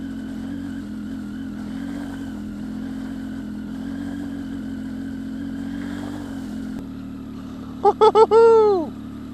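A Triumph Tiger 800 motorcycle engine on an off-road ride holds a steady, low, near drone. It dips slightly late on, and a few brief, sharp voice-like sounds follow.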